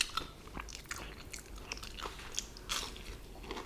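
Someone bites and chews a crispy chili bajji fritter in beer batter, close and fairly quiet, with several sharp crunches spread across a few seconds and no talking.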